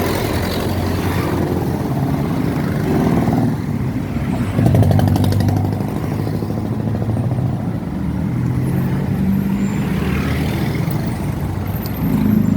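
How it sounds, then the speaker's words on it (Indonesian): Congested road traffic at a railway crossing in Sukabumi, with motorcycles, cars and trucks idling and creeping along, giving a continuous loud rumble of engines and revving throughout with no clear gaps. "Reporter melaporkan situasi terkini adalah sedang macet."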